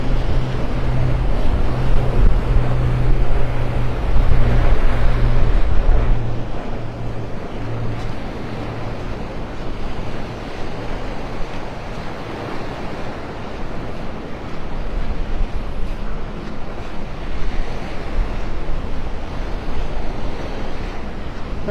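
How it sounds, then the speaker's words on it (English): A cool north wind and rolling surf on Vanderbilt Beach, North Naples: steady loud wash of waves with gusty wind buffeting the microphone throughout, low rumble easing after the first few seconds, no voices. "That wind coming out of the north is on the cooler side."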